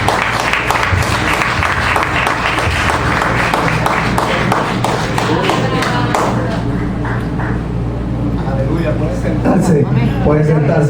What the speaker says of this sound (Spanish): Den un aplauso al Rey de Reyes en esta hora